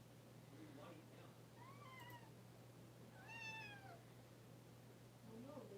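A kitten meows twice in the middle of the clip, drawn-out rising-and-falling cries, with a softer third call near the end, over a steady low hum and faint background voices.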